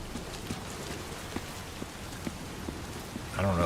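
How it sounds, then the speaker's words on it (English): Rain falls in the video game Death Stranding 2, a steady moderate patter with occasional heavier drops, ending in a brief louder burst of another sound. "Oh, it's raining."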